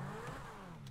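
A car engine revs hard in a GTA roleplay game, a loud, sustained mid-pitched roar from a character's new car.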